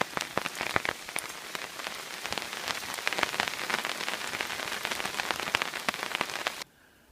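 Hailstones patter densely on a camping tarp in the wild, a close, continuous rattle of many small impacts that stops abruptly near the end.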